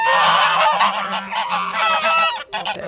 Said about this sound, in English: geese are an extremely undervalued animal, which is basically a grazer